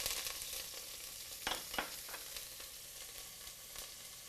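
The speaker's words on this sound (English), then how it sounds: "Let's put some oil in our pan. Let's add some onions" About half a cup of onions sizzling in hot oil in a pan, a steady crackling fry with a few louder spits and stirs near the middle, close and moderately quiet, no voices.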